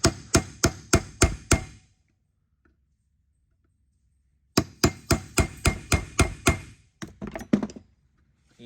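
Sharp metal hammer blows on a punch against a pit bike bolt, two bursts of six to eight evenly spaced strikes separated by a silent pause, then a few looser taps, loud and close.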